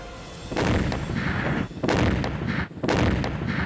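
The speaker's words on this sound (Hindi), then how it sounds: "एक धमाका होता है और ये इमारत जमीन दोज हो जाती है।" Loud, heavy blasts from an airstrike destroying a building in Gaza boom one after another, each broadband burst rumbling and crackling with no pause or quiet between them.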